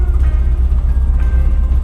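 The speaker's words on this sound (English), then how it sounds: "engine's humming" A 1964 21-window VW Bus Transporter on a test drive after repairs, its engine giving a loud, steady low hum with road rumble and no talk over it.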